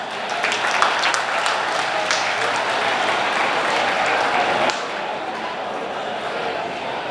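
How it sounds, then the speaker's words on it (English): Audience applause at a speedway awards banquet held at a stockyards hall, a sustained wash of clapping that drops to a lower, thinner level near the end. "ladies and gentlemen, give a big round of applause"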